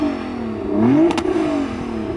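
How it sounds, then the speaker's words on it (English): Nissan GT-R NISMO engine revving close by, a single throaty rising and falling blip over idle rumble, with a couple of brief sharp clicks at the peak. "Jürgen, go on, rev up your car"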